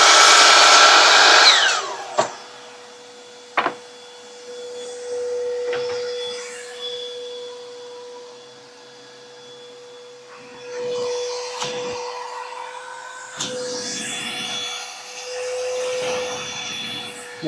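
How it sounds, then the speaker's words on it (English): A shop vacuum serving as a woodworking dust collection system whines loudly at first, then drops to a steady tonal hum that lasts most of the stretch, with a few sharp clicks and short surges of noise along the way. "The vacuum sucks."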